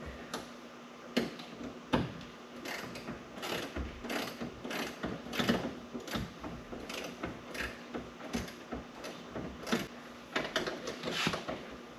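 Ratchet wrench tightening the seat bolts in an AMC Pacer, clicking in quick, uneven bursts of pawl ticks close by, with short pauses between strokes.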